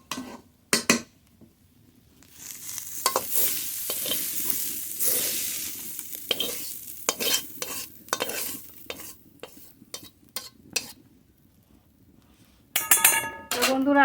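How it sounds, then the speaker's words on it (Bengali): Flat beans with spring onions stir-fried in a pan in a home kitchen: close, repeated spatula scrapes and clanks over a steady sizzle, with short pauses between bursts of stirring and a voice talking at times. "শিম দিয়ে পেঁয়াজ কলি দিয়ে ভাজা হয়ে গেছে,"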